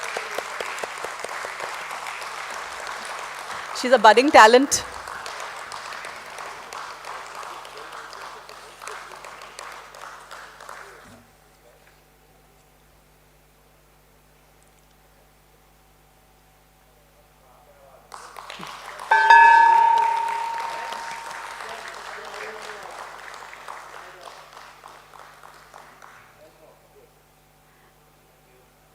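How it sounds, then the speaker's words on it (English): Audience applause at a stock-exchange listing ceremony for Nova Agritech Ltd at BSE, rising in two bursts of clapping that each fade out, with a quiet pause between and a brief spoken line. "Big round of applause for her."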